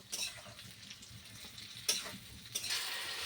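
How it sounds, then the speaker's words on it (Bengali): Salted jujube fruit (kul) fries in a pan for pickle with a soft, quiet sizzle, broken by a few clicks as it is stirred, close by and with no talk. "কুলটা আমি ভালো করে ভেজে নিব"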